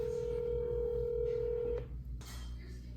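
A telephone handset produces a steady tone for almost two seconds, then drops out, followed by a few faint clicks over a constant low hum.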